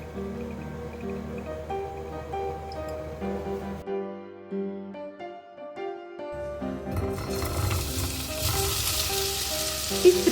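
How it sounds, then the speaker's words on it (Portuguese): Olive oil heats in a pan and calabresa sausage fries in it, a soft crackle that swells into a louder, hissing sizzle toward the end, with tonal background music underneath. "nesta outra panela, aqueço o azeite"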